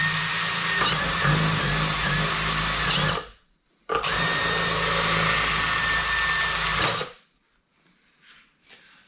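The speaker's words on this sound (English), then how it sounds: "to drill out a 25mm hole in this plastic trunking, I'm just going to use cone cutter" Cone cutter on a power drill boring a 25mm hole through plastic trunking: two loud, sustained whining bursts of about three seconds each, split by a short pause and followed by quiet.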